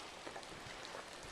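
Rain at a campground, heard as a soft, steady patter of drops with no voices, faint and continuous over a short stretch.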